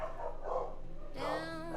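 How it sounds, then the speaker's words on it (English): Dogs barking indoors during a live stream, a few close, sharp barks and yips in quick bursts, with a whining tone between them, moderately loud. "My dogs are going crazy."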